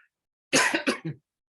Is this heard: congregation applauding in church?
no